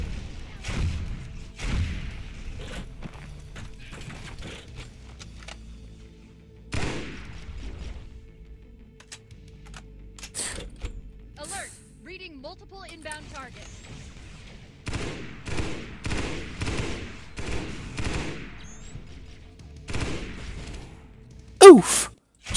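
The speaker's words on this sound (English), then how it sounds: "that anti-air wraith, it uses its own guns against me" Anti-air Wraith gunfire in Halo SPV3, bursts of cannon fire and impacts scattered among quieter stretches, with a rapid volley late on and a sharp loud hit near the end, while a person talks in between.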